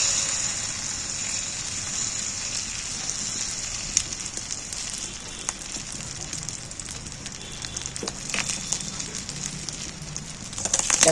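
Fish roe sizzles in hot oil in a pan over low heat, a steady crackling hiss with scattered sharper pops throughout, close and continuous, with no talking.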